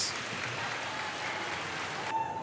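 Applause at a youth swim meet for a 10-year-old swimmer, a brief burst of scattered clapping from a crowd heard at moderate distance, fading at the end.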